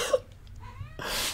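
A cat lets out a short, faint meow after tumbling down the side of a bed, followed by soft rustling in a quiet room.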